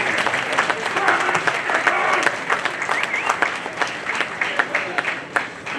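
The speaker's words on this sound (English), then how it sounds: "let's give another big round of applause for Prime Minister Davis" A large audience applauds for Prime Minister Davis at the Bahamas' 50th anniversary ceremony aboard USS Wasp, dense steady clapping rolling on throughout with a few louder individual claps standing out near the end.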